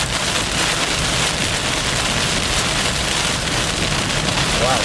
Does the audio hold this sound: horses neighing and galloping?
no